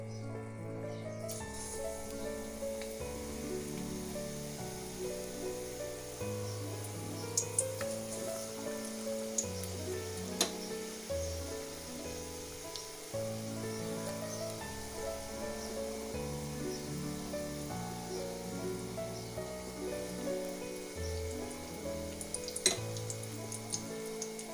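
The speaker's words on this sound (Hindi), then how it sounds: "हमारा तेल काफ़ी अच्छा गर्म हो चुका है, अब हम इसमें हमारे मिर्ची के पकोड़े डाल देते हैं।" Green chili pakodas fry in hot oil in a kadai, giving a steady, close crackling sizzle that continues throughout with occasional louder pops and stirring clatter.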